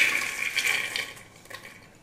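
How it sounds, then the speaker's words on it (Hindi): Water from a glass pours onto soaked chickpeas in a pressure cooker, a short, steady splashing stream that tapers off near the end, with no talk. "तो यहाँ पे हम 1 गिलास पानी डाल दे रहे हैं"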